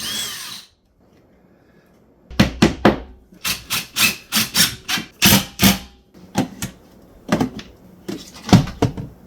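A power drill with a 7/32 bit whirs in a rapid series of short, loud bursts after a brief quiet start, biting into a wall close by.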